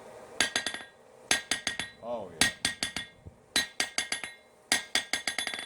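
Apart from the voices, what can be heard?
Japanese hammer rebound test strikes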